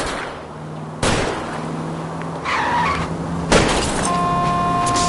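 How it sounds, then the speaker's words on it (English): Two sharp gunshots ring out about two and a half seconds apart over a roaring car engine and skidding tires, fired at a fleeing car's tires during a car chase in the video game L.A. Noire. "I'll try to shoot out his tires."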